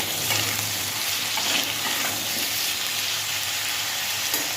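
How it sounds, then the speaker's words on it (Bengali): Potatoes fry in a little oil with dried red chillies, a continuous close sizzle broken by scraping stirs. "শুকনো লঙ্কা দিয়ে আলুটা ভেজে নিচ্ছি।"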